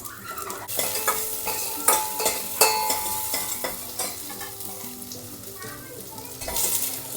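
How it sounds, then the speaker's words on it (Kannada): Onions, ginger and garlic fry in a pan with a steady close sizzle, broken by repeated scraping stirs and light clinks of a spoon against metal. "ಶುಂಠಿ ಬೆಳ್ಳುಳ್ಳಿನೂ ಕೂಡ ಹಾಕಿ ಫ್ರೈ ಮಾಡ್ಕೊತಾ ಇದ್ದೀವಿ."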